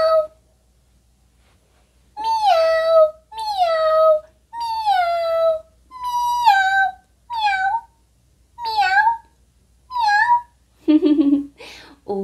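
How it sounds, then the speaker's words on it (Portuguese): A cat meows about eight times in a row, each cry drawn out and falling in pitch, with short pauses between them, then ends with a rougher cry. "O gato faz miau"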